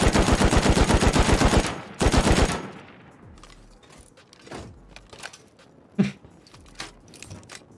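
Bursts of automatic gunfire in the survival game Rust, a loud rapid burst of shots followed by a second shorter burst, then scattered quieter impacts and distant thumps.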